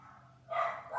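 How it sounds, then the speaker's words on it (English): A dog gives a short, faint bark or two indoors, brief and somewhat distant against a quiet room. "there go the dogs"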